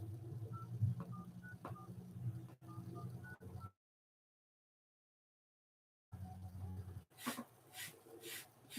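Phone tones as a number is dialed on a telephone during a cold call, a short series of beeps over a low hum, followed by a dead gap and then a few louder tone bursts.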